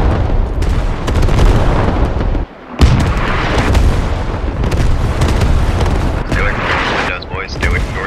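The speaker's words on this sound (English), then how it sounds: "That is enemy artillery." Enemy artillery in a military shooter game: heavy booming blasts and rumbling impacts throughout, loud and dense, with a brief dip in the middle, while players talk over the barrage.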